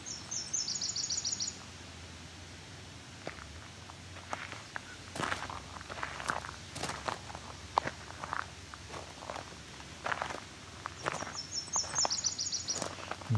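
A yellow-rumped warbler, close to the myrtle form, sings two brief high trills, one at the start and one near the end, while footsteps crunch in between.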